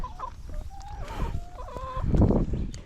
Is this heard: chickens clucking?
yes